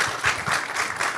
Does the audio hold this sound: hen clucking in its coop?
no